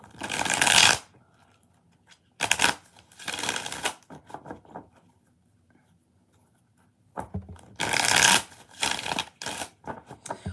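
Tarot cards are shuffled by hand in several loud, close bursts of riffling and flicking, separated by short quiet pauses, with no speech.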